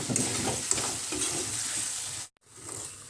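Ridge gourd dropped into a pan of fried spices sizzles steadily while a utensil stirs and scrapes, close and fairly quiet, broken by a brief silent gap near the end.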